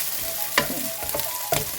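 Onions and garlic frying in a pan for paella: a steady close sizzle broken by a few sharp scraping stirs and clinks, with no one speaking.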